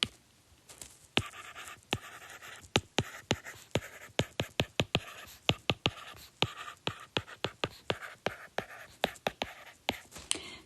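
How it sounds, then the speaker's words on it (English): A pen or marker scratches out an ellipse formula in quick, rhythmic strokes and taps, close and steady, with short tick-like hits throughout and no talking. "Let's write that down."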